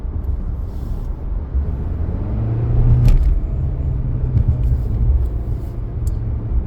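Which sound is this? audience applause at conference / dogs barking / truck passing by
truck passing by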